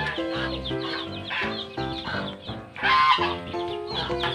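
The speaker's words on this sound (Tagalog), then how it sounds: "Malalaking manok ko." Large farm chickens cluck and call repeatedly in loud, close bursts with short pauses between them, one louder, rising call near the end.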